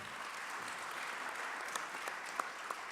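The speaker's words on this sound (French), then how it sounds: "Je propose d'applaudir." Faint, distant applause from an audience closing a conference talk on photovoltaic self-consumption and storage, a steady soft patter with a few sharper claps near the end.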